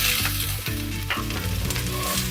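Chopped onions hit a pan of rendered beef fat and sizzle loudly and steadily, with a few sharp crackles and stirring scrapes close by.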